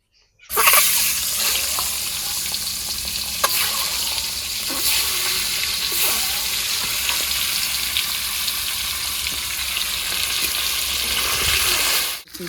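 Eggs lightly frying in hot oil in a pan for a rustic Bengali egg curry cooked on a clay stove, a steady close sizzle running throughout with scattered crackles and no talk.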